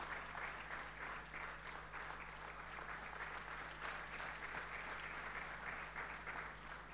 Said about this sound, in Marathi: clap our hands and congratulate him